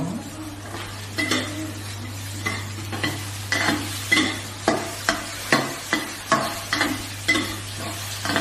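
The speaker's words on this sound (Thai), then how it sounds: "ผัดให้เข้ากันจนทุกอย่างสุกนะคะ" Macaroni with sausage and tomato stir-fried in a pan: a soft steady sizzle under repeated clinks and scrapes of a utensil against the pan, coming in regular strokes, close by.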